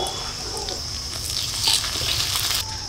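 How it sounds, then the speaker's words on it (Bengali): Ginger-cumin paste frying in a pan as ground turmeric goes in, giving a steady close sizzle and hiss that swells slightly midway and runs without pause. "আদা জিরে ভাজা ভাজা করে নিয়েছি, এবার দিয়ে দিচ্ছি হলুদ গুঁড়ো"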